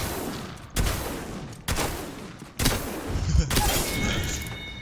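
Gunfire in Apex Legends: three loud bursts of shots arrive roughly a second apart, each followed by sustained rattling fire and echoing tails, with game effects ringing at the end.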